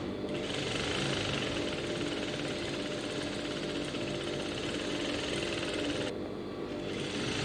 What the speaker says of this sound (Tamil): உள்ளே ஒரு லைனிங் துணி வச்சு ஜாயின் பண்ணிவிட்டு மேலே சும்மா ஒரு ஓட்டு தையல் போடுறோம்